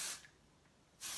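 Two short bursts of Amika Undone Volume and Texture Spray misted onto braided hair, a crisp aerosol hiss at the start and again at the end with a quiet gap between.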